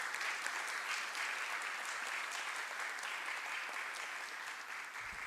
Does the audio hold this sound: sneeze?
no